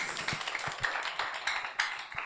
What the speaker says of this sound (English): Somebody clap your hand for Jesus.